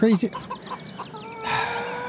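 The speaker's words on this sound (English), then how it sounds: "my rooster is apparently trying to attack some chickens?" Rooster and chickens in the video game Farming Simulator 2013, with a sharp squawk and clucks up front followed by someone talking over softer farmyard ambience and a sustained tone.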